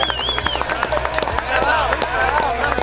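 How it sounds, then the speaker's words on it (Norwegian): A crowd at a freeride ski competition claps and cheers for a skier, scattered claps and whoops over an outdoor background, with a shrill whistle and a commentator's voice mixed in. "Gi en stor applaus!"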